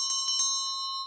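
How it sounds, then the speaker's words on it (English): A pub bell is rung for last orders, three quick bright strikes in a row whose ringing tone lingers and fades, close and clear. "that's the bell for last orders"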